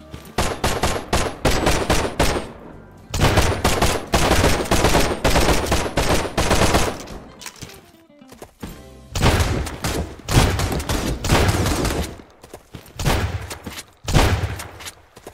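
Heavy automatic gunfire from Sunkenland fills the clip in dense, loud bursts, with a short lull around the middle before the rapid shooting resumes.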